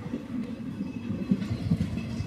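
A passenger train on the Osmanabad (Dharashiv) to Latur (Harangul) line rolls along in a steady low rumble heard from inside, with faint wheel clatter and no voices.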